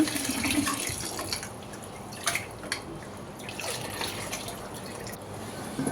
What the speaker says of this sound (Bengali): তো চালটা আবার একটু ভালো মতো ধুয়ে নিচ্ছি